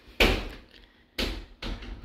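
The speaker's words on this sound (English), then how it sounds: "Please excuse the door." A door bangs shut with a sharp thud on an extremely windy day, followed by two more knocks as it rattles against its frame, close by.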